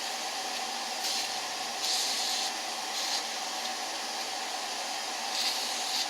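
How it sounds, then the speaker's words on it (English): A steady hiss fills the clip, with several brief bursts of WD-40 lubricant spray from an aerosol can onto a Pietenpol aircraft fuel system, close by and with no talking. "we're spraying it down with WD-40"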